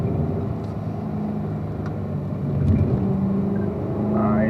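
A car drives a cone course, braking into turn 8 as the automatic gearbox drops to third; a steady, close engine rumble and whir runs throughout, swelling slightly toward the end, with no talking.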